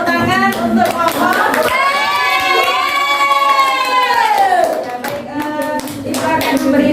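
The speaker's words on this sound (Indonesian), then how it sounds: "Sekali lagi berikan tepuk tangan untuk kelompok." A classroom of students claps for a presenting group. Close, busy hand clapping runs throughout, mixed with young voices calling out and cheering over it.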